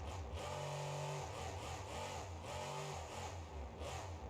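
Combustion engine car driving in BeamNG.drive, a steady mid-pitched engine drone with a couple of rising rev swells, continuous and fairly close with no talk.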